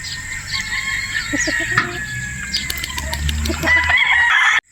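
Several roosters crow back and forth, loud and close, with clucking from fowl in the background; the crowing overlaps continuously and stops abruptly near the end.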